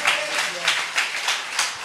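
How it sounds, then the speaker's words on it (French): A church congregation claps in praise of the Lord, a handful of evenly spaced, moderately loud claps forming a steady rhythm with faint voices underneath. "Applaudis le Seigneur"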